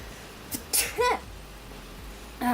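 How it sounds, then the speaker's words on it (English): A woman sneezes indoors in a friend's living room, a short sharp burst with a breathy lead-in, followed by quieter vocal sounds and a brief noise at the end. "That was an awkward moment sneeze."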